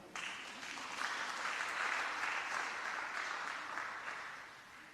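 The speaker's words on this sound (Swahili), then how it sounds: "wapigie makofi." Audience applause from a church congregation, steady clapping from many hands that swells and holds for about five seconds before tapering slightly, with no voices over it.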